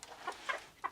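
Chickens on a farm in freezing winter weather near the frozen Hantan River, giving a few short soft clucks at a moderate distance with no talk over them.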